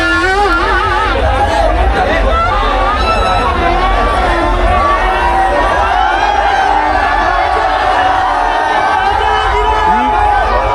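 A village crowd cheers and chatters during the Raiyba Devi yatra, a dense continuous hubbub of many voices with shouts and whoops, loud and close, with people talking throughout.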